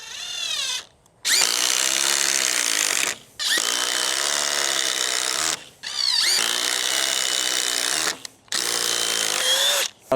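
A DeWalt impact driver runs at speed 3, driving a bigger fastener in four loud bursts of rapid hammering whine. Each burst is separated by a brief pause, and the tool is close and dominant.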